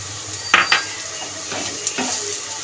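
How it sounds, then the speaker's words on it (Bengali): A utensil scrapes and clanks in a pan while lightly fried onion and green chilli are stirred with biscuit crumbs, a few sharp metallic knocks over a soft steady sizzle, close and without speech. "পেঁয়াজ আর কাঁচা লঙ্কাটা নুন দিয়ে হালকা করে ভেজে নিয়েছি, খুব একটা লাল লাল করবো না। এবার এর মধ্যে দিয়ে দেবো বিস্কুটের গুঁড়ো।"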